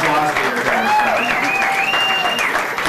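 A crowd breaks into loud, sustained applause for the Volunteer of the Year at the 2015 Pacifica Chamber of Commerce awards ceremony, with voices audible over the clapping throughout.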